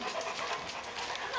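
A dog pants in quick, steady breaths close by, a soft continuous huffing with no other sounds over it.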